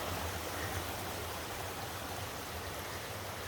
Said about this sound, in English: You can hear the water sound.